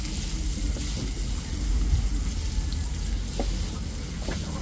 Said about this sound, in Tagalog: At isusunod na rin po natin yung sibuyas.